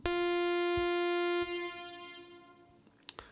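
A bright, buzzy sawtooth tone from a wavetable synthesizer holds for over a second, then cuts off and trails into a fading reverb wash, followed by a few soft clicks.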